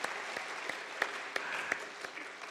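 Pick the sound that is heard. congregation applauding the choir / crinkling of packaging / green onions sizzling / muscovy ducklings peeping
congregation applauding the choir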